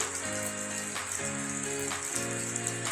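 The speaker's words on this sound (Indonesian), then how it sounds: "Hujan." Rain falls steadily at a hillside resort in Busung Biu, Buleleng, as a constant hissing patter on surfaces, joined by a faint tonal hum that shifts in pitch.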